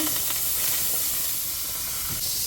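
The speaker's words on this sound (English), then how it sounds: "I'm on my big Dutch pot. Yes, so I'm gonna put some butter in it there" Butter melts in a big Dutch pot for Jamaican-style steamed fish with okra, producing a steady hiss and sizzle that stays close and even throughout.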